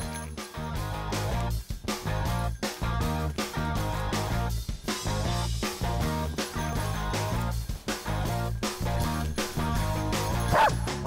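An Australian Shepherd search dog barks over and over to signal a hidden person it has found. The loud, close barks come in quick succession through the whole stretch.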